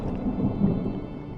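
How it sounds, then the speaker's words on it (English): Low, continuous thunder rumbles on through a storm in the video game Draugen, a broad distant roll with light rain texture, steady and alone without talk. "Was that thunder?"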